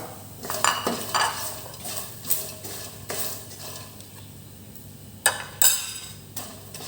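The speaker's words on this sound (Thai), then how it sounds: "ใส่ ปลาซิวแดดเดียวที่ทอดลงไปครับ" Sun-dried small freshwater fish, fried beforehand, being stir-fried with garlic in a pan: a run of close metallic scrapes and clinks from the spatula, with a faint sizzle in the quieter stretches between strokes.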